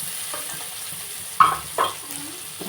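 Onions sautéing in a pan give a soft, steady sizzle, with two brief clanks from stirring near the middle, and no one speaks.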